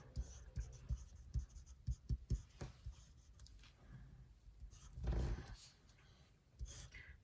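Pencil scratching and tapping on paper in short, quiet strokes with pauses between them, close to the microphone in a quiet room.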